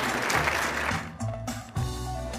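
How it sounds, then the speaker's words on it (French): Thunderous applause for a chef at a Swiss food fair's cooking arena: a loud, dense burst of clapping that fades after about a second, giving way to quieter hall noise. "C'est à ce moment-là que je vous demanderai un tonnerre d'applaudissements pour notre chef Éric Jean."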